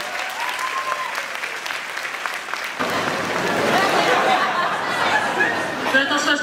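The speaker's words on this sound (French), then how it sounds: "applaudissements pour ces gens" Applause from an audience at a Paris manga convention, starting as scattered clapping under chatter and swelling after a few seconds into loud, dense clapping mixed with crowd noise and a few chuckles.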